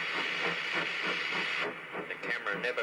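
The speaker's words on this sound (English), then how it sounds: "as we pass through the second one, the locomotive blows off" A steam locomotive blows off steam while passing through a tunnel, a loud, steady close hiss that fills the space, then breaks into rougher bursts toward the end.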